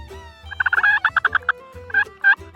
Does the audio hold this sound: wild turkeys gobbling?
yes